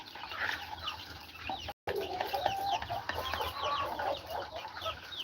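Several chickens cluck and murmur nearby in a continuous, busy chatter, with a brief dropout partway through.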